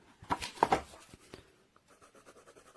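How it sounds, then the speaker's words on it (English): A hard pencil from a 144-piece aluminium-cased art kit scratches across paper in close, uneven strokes, heavier at first, then lighter rapid scribbling. "So we'll try one of the pencils with some paper."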